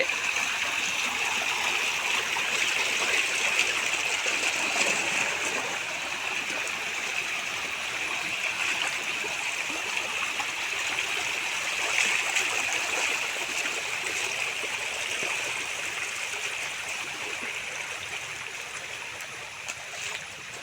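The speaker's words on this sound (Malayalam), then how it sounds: "ഞാനിപ്പോ പുഴയുടെ അടുത്തേക്ക് ഇങ്ങനെ പോയോണ്ട് നിൽക്കുകയാണ്" A river flows as a steady, close, continuous rush of water, even in level from start to finish, with no voices over it.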